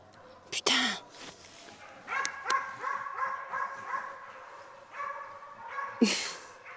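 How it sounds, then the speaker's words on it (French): A dog barks and yips during a wild boar hunt in the Haute-Marne countryside. Several sharp barks come at the start and again near the end, with a whimpering, whining stretch between them and quiet voices nearby. "y'a un chien"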